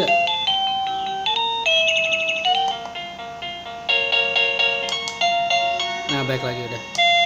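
A ZEHN ZN-903Y digital wireless doorbell plays a busy melodic tone with chirpy bird-like trills, a rapid run of bright electronic notes near and loud, ending in a fluttering burst.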